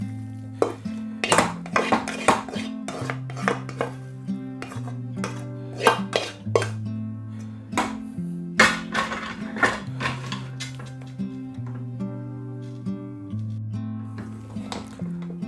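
A spoon clanks and scrapes against a pot as masala is stirred into cooked rice for a Kerala masala rice, sounding as repeated close metallic knocks in an uneven rhythm over a steady low hum.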